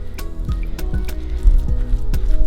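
Ogbono being stirred into palm oil in a pot, giving wet, sticky squelches at a steady rhythm, close and fairly loud, with no talk over it.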